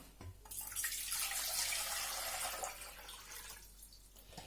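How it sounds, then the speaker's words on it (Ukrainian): Water pours from a tap into a container for a cabbage marinade, a bright splashing rush that swells for about two seconds and then eases to a softer trickle. "Беру 1 літр води."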